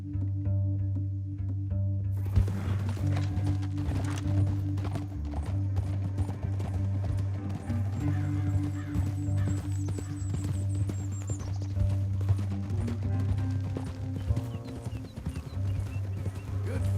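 Horses' hooves clip-clop at a steady walking pace in the Western game Red Dead Redemption 2. The hoofbeats are close and continuous over a low rumbling background, with an occasional snort or whinny and no talk.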